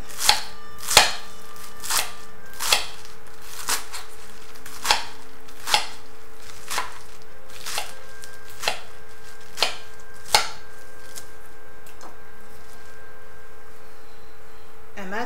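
A knife chops spinach, celery and parsley for soup on a cutting board, with a dozen sharp, evenly spaced thuds heard up close and nothing else alongside them.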